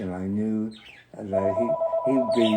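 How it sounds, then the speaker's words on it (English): A phone rings with a steady electronic tone through most of the clip, mixed with someone talking nearby. "I apologize for the phone ringing."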